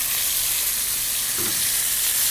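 Steak tips searing in a hot pan give off a steady, dense sizzle and crackle, close and continuous with no talking.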